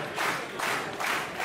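A wrestling crowd at an AIWF show cheers and claps in a steady broadband roar, rising in loose swells about every half second as the noise surges and dips, with no voices standing out.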